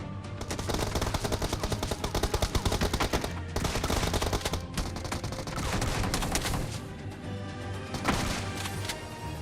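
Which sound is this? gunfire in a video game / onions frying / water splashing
gunfire in a video game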